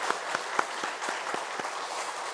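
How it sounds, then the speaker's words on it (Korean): Congregation clapping in a church service, a steady wash of applause with a few sharper individual claps standing out, moderately loud and continuous throughout. "하나님 앞에 영광의 박수 드리겠습니다."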